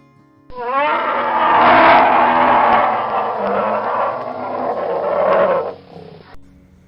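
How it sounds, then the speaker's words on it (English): A bear's roar, a deep sustained growling bellow that swells and fades over several seconds, loud and close with no talking. "Bear 熊。"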